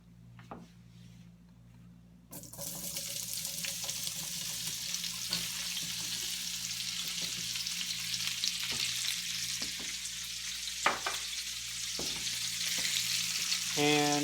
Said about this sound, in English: I'm going to saute the potatoes in the fat